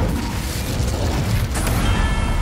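A fire spell cast in a Harry Potter game gives a loud, broad whooshing roar with a crackling burst about halfway through, continuous and close throughout.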